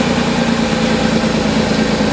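A Pontiac Fiero's 3.4 liter distributor engine idles steadily up close, a loud, even, continuous rumble with no voices over it.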